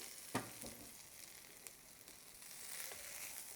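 Hot oil tempering sizzles sharply as it hits rice rava, with a loud initial crackle settling into a soft, steady fry, close by and quiet.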